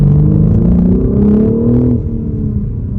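A 2022 BMW M4 with a manual gearbox revs during a rev-matched shift: a loud, close engine note climbs in pitch, then drops as the shift completes, leaving a lower rumble.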